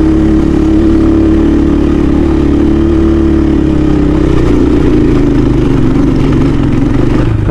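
A KRY 200 motorcycle rides over a rough, broken road near Lobo, Batangas, its engine a loud, continuous close-up drone mixed with heavy rumble throughout.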